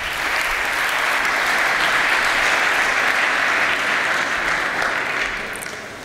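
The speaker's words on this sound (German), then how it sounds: "Applaus." Steady, dense audience applause at a lecture on digitalisation and complexity, loud and continuous for several seconds before tapering off slightly at the end, with no speech over it.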